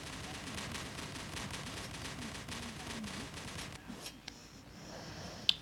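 Pilot ejection explosion in a mech combat video game, coming after a stretch of dense rapid crackling gunfire-like effects, then a few sharp isolated pops and a final sudden loud burst near the end.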